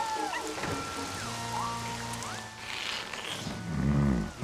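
Rain falls steadily in a cartoon scene, a continuous hiss over music with sliding tones and a swelling low rumble near the end.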